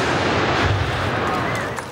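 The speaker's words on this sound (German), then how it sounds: "Einen würdigeren Wiesn-Abschied als den alljährlichen Salut der Böllerschützen mittags um 12 an der Bavaria kann es kaum geben." Böllerschützen firing a ceremonial salute of hand-held black-powder guns at the Bavaria statue on the last day of Oktoberfest in Munich, 2018: loud booming blasts echoing and rolling away outdoors.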